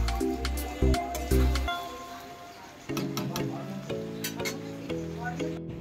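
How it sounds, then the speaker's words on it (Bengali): Food lightly fried in a pan gives a soft sizzle broken by clattering stirs, with bursts of spatula scraping early on, while music plays underneath. "একটু ফ্রাই করে নিচ্ছি। একদম হালকাভাবেই করছি"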